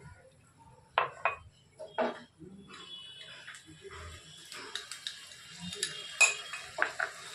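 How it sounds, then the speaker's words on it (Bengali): A spoon clatters and scrapes against a pan while chilli egg is stirred. Several distinct metallic knocks ring out between quiet gaps, close and fairly soft. "নেড়ে দিচ্ছি।"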